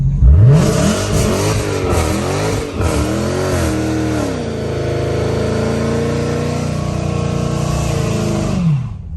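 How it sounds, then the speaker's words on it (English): A fire-damaged 1955 Chevy Bel Air revs hard during a burnout, its loud, close engine sweeping up and down in pitch several times before holding a sustained high roar and dropping off at the end. "Should we try a burnout? Continue to hold OK and release brake. Apply throttle."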